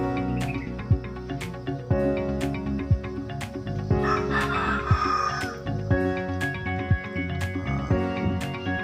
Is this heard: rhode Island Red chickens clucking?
yes